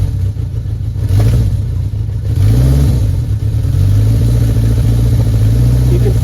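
A 1981 Yamaha XS1100 motorcycle engine, close up, is blipped with the throttle from idle, rising and falling in several revs over a steady rumble.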